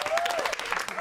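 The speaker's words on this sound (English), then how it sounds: "Give her a round of applause." Brief burst of applause from a small group, quick scattered clapping heard near with a faint voice over it.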